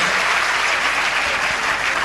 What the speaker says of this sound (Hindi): एक बार जोरदार तालियों से इनका स्वागत करें